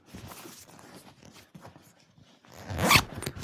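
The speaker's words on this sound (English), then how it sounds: "So then we zip it up." Zipper on a Yeezy BG-01 bag pulled shut, a short, bright, close zip near the end after a few seconds of soft handling and rustling.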